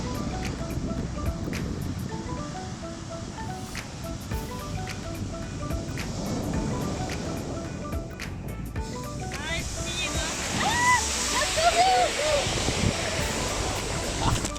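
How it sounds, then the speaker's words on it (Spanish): Ocean waves break on a steep, choppy beach at Los Cabos, a steady wash of surf with wind buffeting the microphone, building louder near the end. "entonces justo ahí rompe la ola y..."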